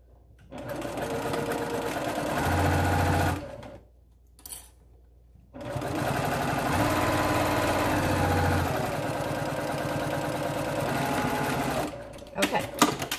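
Sewing machine stitching two face mask pieces right sides together with a quarter-inch seam, two long bursts of steady whirring separated by a short pause, then light handling clicks, close and loud.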